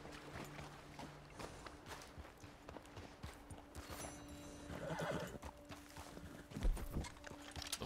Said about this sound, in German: Was haben wir denn da? Oh, auch nur ein Pferd.